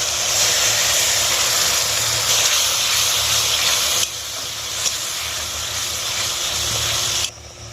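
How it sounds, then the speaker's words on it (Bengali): Spice masala with water bubbling and hissing hard in a pan for potato biryani, a loud dense steady seethe that drops in level partway and cuts off near the end. "মশলাটা ফুটছে"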